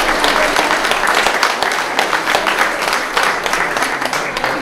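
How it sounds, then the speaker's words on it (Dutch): An audience at the opening of a residential complex claps in a loud, dense, sustained round of applause that lasts the whole stretch, with no voices standing out above it. "Maak een daverend applaus voor de bewoners."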